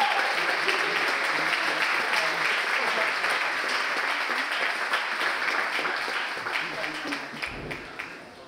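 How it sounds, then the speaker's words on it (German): A conference audience at TINCON applauds a panel host and her guests: dense, steady clapping that stays loud for most of the stretch, then thins and fades near the end. "Jetzt aber ein riesiger Applaus an Leonie und ihre PanelgästInnen."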